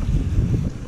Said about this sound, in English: I don't know if you guys can hear the wind or see me getting blown around